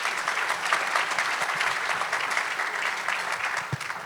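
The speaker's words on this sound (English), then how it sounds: "If you could please give me a round of applause for our panelists today" An audience at a panel discussion applauds the panelists with sustained, dense clapping, fairly loud and even throughout, tapering slightly at the end.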